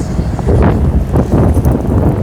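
Steady wind buffets the microphone, a loud continuous rumble with gusts swelling and fading, with no voices.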